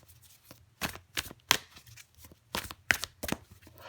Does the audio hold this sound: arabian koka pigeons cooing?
no